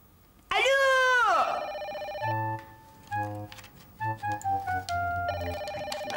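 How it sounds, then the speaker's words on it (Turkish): A telephone rings in repeated electronic bursts, loud and close, in a Turkish sitcom scene, with a voice briefly heard around the rings. "telefon zır zır çalıyor"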